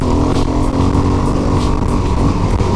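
A rejetted dirt bike with an open air box rides a soft, dusty trail through a lava field, its engine a loud, steady, close drone that fills the whole stretch with no let-up.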